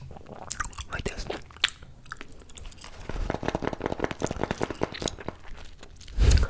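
Close, wet gum chewing with a thick piece of gum, dense rapid smacks and small pops from a bubble sucked inward, with crackling clicks throughout and a brief whispered voice.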